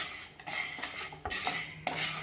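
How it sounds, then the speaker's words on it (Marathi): Lentils dry-roasting in a hot kadhai over a medium gas flame, a steady dry rustle with repeated scraping strokes of a spatula against the metal, close and fairly loud, no voices. "कढई एकदा चांगली तापली की मीडियम गॅस फ्लेमवरती आपल्याला या डाळी भाजायच्या आहेत"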